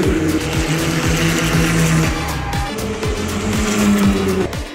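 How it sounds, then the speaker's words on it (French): A race car spins out on track during a GP Explorer race, with a loud, steady engine drone and repeated sharp harmonic sweeps as revs rise and fall, with a brief tire-squeal-like tone midway. "Oh, tête à queue de Squeezie."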